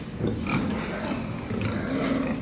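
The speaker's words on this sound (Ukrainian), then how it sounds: "Ось як ви бачите, у нас свиночки" Replacement gilts of about 25 kg, kept in a pig barn, grunt and snuffle continuously at close range, a low dense mix of overlapping grunts with no voices over them.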